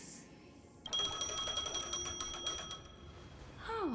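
Phone ringing in Honkai Star Rail, a bright electronic trill with steady high tones that starts suddenly, rings loudly for about two seconds over quiet background ambience, then fades.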